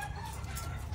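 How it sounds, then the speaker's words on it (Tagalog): Hens clucking nearby, a busy overlapping chorus of short throaty calls over a low background rumble. "Pakita ko lang sa inyo yung ibang mga inahin natin."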